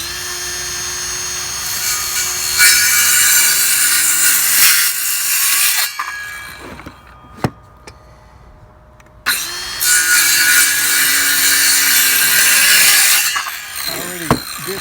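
A loud Ryobi 5 1/2 inch circular saw cuts into 4-inch wood with a screaming, whining blade. It stops for a few seconds of near silence with a sharp knock, then cuts again before spinning down.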